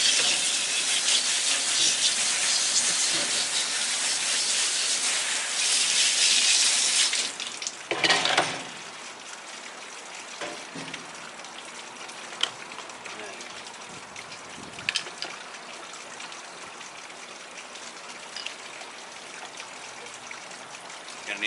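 Running water rinses the motor of a Marineland aquarium filter, a loud, steady hiss lasting several seconds. It then cuts off, leaving quiet handling clicks and knocks.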